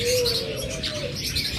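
Caged lovebirds and budgerigars offered for sale chirp and twitter, with a thin whistled call and several short bright chirps at moderate distance, steady against faint background noise.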